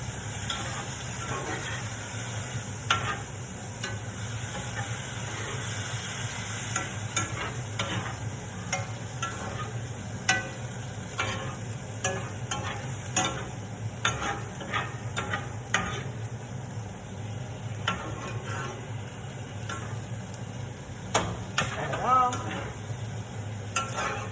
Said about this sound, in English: This is the time to add the noodles. And I like to keep stuff moving and cooking at the same time.